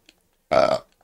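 A single short burp, loud and close, standing alone in an otherwise quiet moment.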